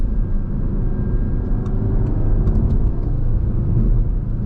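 A 2019 Audi TT RS drives under power with paddle-shift gear changes, heard as a steady, loud, low engine and road drone from inside the cabin, with no distinct shift breaks standing out.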